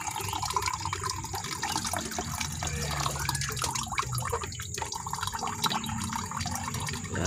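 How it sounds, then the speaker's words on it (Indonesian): Liquid from a fermented banana-root probiotic is strained and poured, making a steady, continuous splashing trickle of water throughout, close and fairly quiet, with no voices. "kita ambil airnya saja, kita saring seperti ini."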